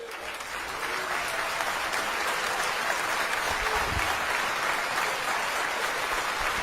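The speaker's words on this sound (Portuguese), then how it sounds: "Vamos aplaudir ao Senhor Jesus por cada vida que está se decidindo" A church congregation applauds in a sustained, even wash of clapping, moderately loud and continuous, with a low thump near the middle.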